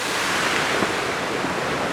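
A fairly large waterfall on a hiking trail near Seoul makes a steady, broad roar of rushing water that fills the whole stretch without pause.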